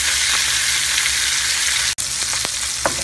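Hot cooking oil crackles and hisses loudly in a pan for a pork humba, a dense continuous sizzle with a few sharper pops near the end, close by and without talk.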